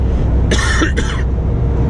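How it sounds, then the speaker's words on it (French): Two quick, sharp coughs close to the mic, one right after the other, over a steady low background rumble. "Je tousse, peut-être la fin les gars."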